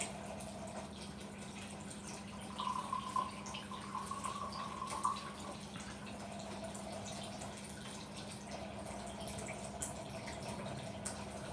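Water runs from a water ionizer tap into a container, a steady thin trickle with faint drips and splashes throughout, heard alone at close range.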